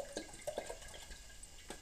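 Water splashes and trickles into an anodized aluminum GSI water boiler, with a few short pours and drips, quiet and close.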